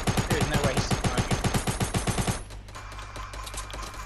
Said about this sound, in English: Shoot the foundations out.